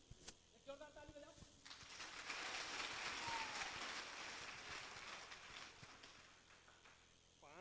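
An audience at a speech event bursts into loud, sustained applause that swells after a brief spoken moment, fills several seconds as a dense wash of clapping, then slowly tapers off.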